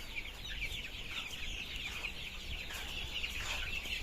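Colour bird chickens about 32 days old on a poultry farm: continuous soft clucking and chatter from many birds, steady and moderately near, with no voices over it.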